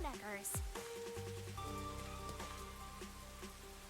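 Steady rain patters in the Rain Code video game, a soft continuous wash beneath game music chimes and tones, with a sharp high ping near the start.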